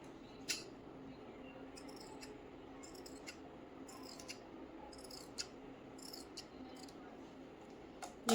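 Scissors snipping through blouse fabric in short clustered bursts of crisp cuts, quiet and close against a faint room hum, with a sharper clack at the end.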